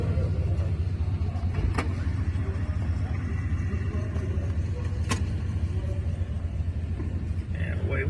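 A 1964 Chrysler 880 cruises at a large car show, its engine a steady low rumble from inside the car, with a couple of sharp clicks or knocks and faint background noise.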